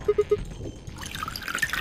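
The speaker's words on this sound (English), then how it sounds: "Probably pour this down the drain first" Liquid poured down a drain in the puzzle game Zero Escape: Virtue's Last Reward: three short drips open, then a steady close trickle and splash that runs on to the end, with no talk.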